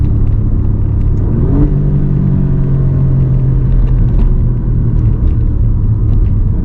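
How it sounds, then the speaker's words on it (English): Alfa Romeo Giulia Quadrifoglio with its 500 hp Ferrari-engineered engine accelerating, a loud, close, continuous engine roar and rumble that rises in pitch steadily, with no talking. "This Ferrari engineered engine is happiness."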